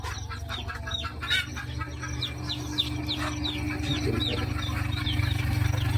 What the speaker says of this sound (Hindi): चूजा शायद मेरे ख्याल से निकल रहा है, आवाज आ रहा है मेरे को